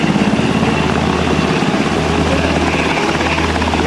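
Army National Guard helicopter at an open-house airshow, a loud continuous rotor thrum and engine whine that holds steady and close throughout, with no voices over it.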